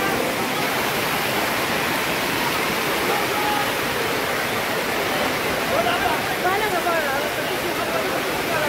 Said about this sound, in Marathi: मुसळधार पाऊस यवतमध्ये.